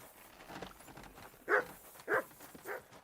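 In Kingdom Come: Deliverance II, a horse walks with three faint, evenly spaced hoof thuds over a quiet ambient background.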